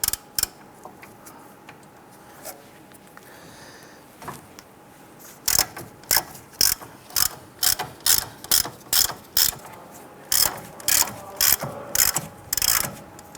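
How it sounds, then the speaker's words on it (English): A ratchet on a 21mm socket loosens the upper ball joint nut on a 2002-2008 Dodge Ram 1500, first a few faint clicks, then a long run of loud, evenly spaced ratcheting bursts close by. "Using a 21mm socket, I want to go ahead and loosen this nut here for our upper ball joint."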